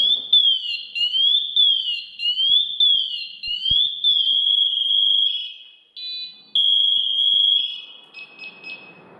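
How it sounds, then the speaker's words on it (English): A loud, piercing SCBA low-air alarm warbles continuously, then shifts to steady shrill tones with brief gaps, close and insistent. "run your alarm through until you get to that end point with that really loud alarm"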